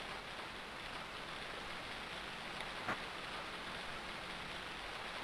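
Rain falls steadily in Harvest Moon Friends of Mineral Town as a quiet, even hiss with no break, broken once by a faint short tick.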